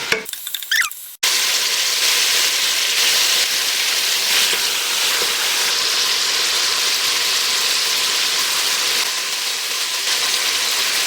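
Pork hits a hot, well-heated pan and sizzles loudly and steadily, a broad hiss that starts abruptly after a moment of quiet and holds evenly to the end.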